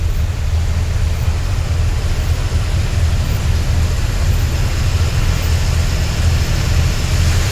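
Torrential rain near Limbdi pours down steadily while a truck drives through it, forming a loud, unbroken wash of noise over a deep, constant low rumble, with no voices.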